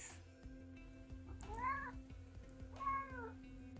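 A pet cat, a carnivore that just jumped up, meows twice in short, rising-falling calls, close and clear over a low steady indoor hum with faint knocks.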